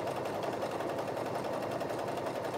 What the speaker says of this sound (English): I am going to use a zigzag stitch for this one.